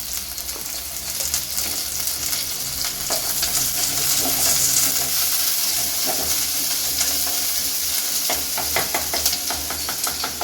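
Onions sautéing with curry leaves in a pan for chicken thokku produce a loud, close, continuous sizzle and hiss, with scraping stirs and crackling spatters throughout and nobody speaking.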